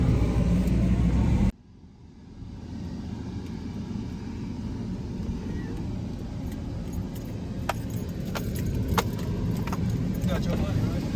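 Interior of a red truck driving down the road, a steady low engine and road rumble filling the cabin throughout with a few faint clicks and rattles, and no talking.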